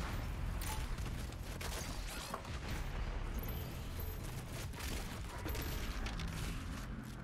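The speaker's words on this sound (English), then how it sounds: "Change to the shotgun, and then explode it." Heavy first-person shooter combat in DOOM Eternal, with shotgun blasts and explosions layered into a dense, continuous barrage of gunfire and booms that stays loud throughout.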